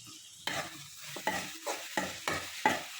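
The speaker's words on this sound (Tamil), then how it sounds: "இப்போ பூண்டு இஞ்சியும் ஆட் பண்ணிக்கலாம்" Garlic and ginger sauté in a pan while a spoon stirs them in about six distinct sweeping strokes, each raising a short burst of sizzle over a low background hiss, heard up close with no speech.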